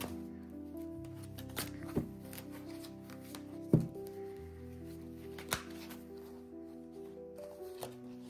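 Tarot cards shuffled by hand before a reading, soft close riffling with several sharp slaps and taps of cards, under a faint steady hum of background music.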